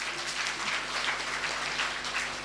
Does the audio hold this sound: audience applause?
yes